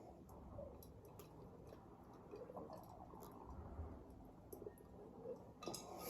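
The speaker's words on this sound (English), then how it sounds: "Don't play with the ice cubes" Faint ice cubes clink and tick against a glass of water, irregular small taps close by over a quiet, noisy background.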